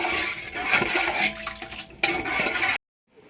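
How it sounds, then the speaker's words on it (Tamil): Water poured into a simmering murrel fish curry (meen kulambu) in a cooking pot: a steady splashing, gurgling stream for under three seconds, briefly interrupted once, then stopping abruptly into silence. "இப்போது தேவையான அளவு தண்ணி சேர்த்துக்கலாங்க."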